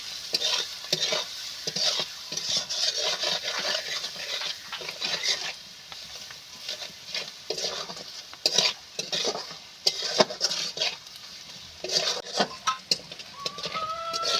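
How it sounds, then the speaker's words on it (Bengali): A spice mix of turmeric and chilli powder is sautéed in a pan: a bright, continuous sizzle with frequent scraping and stirring strokes, close up and without speech. "এক চামচ হলুদ এক চামচ লঙ্কা মশলাটা এবার আমি ভালো করে কষি নেবো সুন্দর মতো করে"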